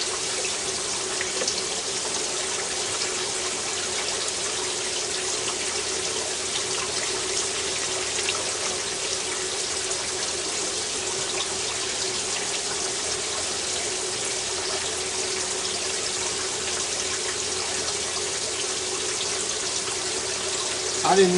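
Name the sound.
hot tap water running for incubator humidity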